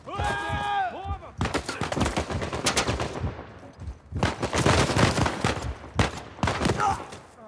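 Rapid bursts of sniper and automatic gunfire crack through a firefight in Uncharted 4, dense volleys with short gaps, loud and close, alongside a brief pitched voice sound at the start.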